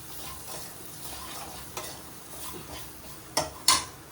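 Quiet sizzling of a tempering for dal frying in a pan with scraping stirring, then a few sharp metallic clinks of a utensil against the pot near the end.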